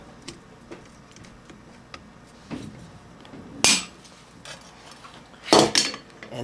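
A hammer peens a countersunk rivet on a circa-1450 Milanese mitten gauntlet, giving faint scattered ticks and then a few sharp, close metallic strikes toward the end, with no talking.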